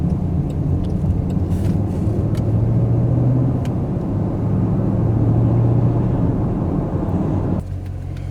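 A 2021 Jaguar F-PACE SVR performance SUV with a 550-hp V8 and eight-speed paddle-shift gearbox, its engine roaring loud and close in a sustained rising drone that holds for several seconds before easing off near the end.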